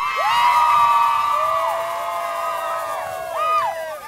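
Crowd at an outdoor high school basketball championship rolling rally cheering and shouting for the cheerleaders, a steady loud roar with whoops and whistle-like calls over music-like tones, swelling again near the end.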